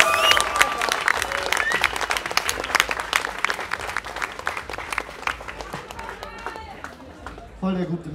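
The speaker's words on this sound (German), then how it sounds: "Applaus, bitte." Audience applause and cheering fill a rap concert crowd, dense continuous clapping throughout, tapering slightly near the end as a voice briefly cuts in.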